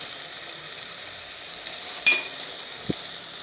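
Dry spices with turmeric and salt frying in a pan for stuffed brinjal: a faint, steady sizzle broken by one sharp metallic clink of a utensil and a soft tap afterward.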